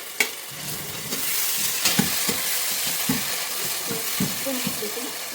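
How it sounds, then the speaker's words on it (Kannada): Tomatoes fry in a pan for bisibele bath, giving a steady close sizzle broken by the clink and scrape of stirring. No one speaks. "ಟೊಮೊಟೊ ಸ್ವಲ್ಪ ಫ್ರೈ ಆಗಿದೆ"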